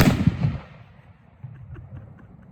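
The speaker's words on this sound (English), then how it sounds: "here goes the firecracker" A huge firecracker goes off at a New Year's celebration with a loud, sharp burst of crackling reports at the very start, then fades into a softer tail with scattered faint pops afterward.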